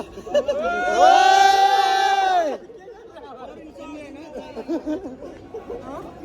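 A group of friends on a lakeside outing cheer and shout together in a loud burst of voices for about two seconds, then drop into scattered chatter and laughter.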